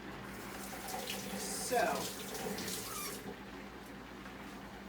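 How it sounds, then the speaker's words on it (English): Hot water runs from a kitchen tap onto pasta with a steady close splashing rush that briefly swells, with a single short spoken word near the start. "let's put some more hot water on this so we don't shortchange the pasta"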